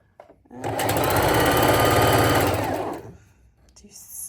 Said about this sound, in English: we are just going to do a test stitch right across.